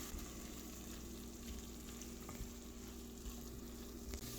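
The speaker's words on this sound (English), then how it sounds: "After letting the meat and the spices just cook for about a minute or 2" Ground turkey and spices sizzle in a pan for chili, a steady close frying hiss with faint stirring and no talking.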